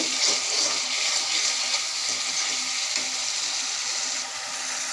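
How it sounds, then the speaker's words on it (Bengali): Spice paste for a snakehead fish curry fries and is stirred in a pan, giving a steady, close, continuous sizzle with faint scraping throughout, no voices. "সব কিছু উপকরণ দিয়ে আমি এখন ভালো করে নাড়িয়ে নেব"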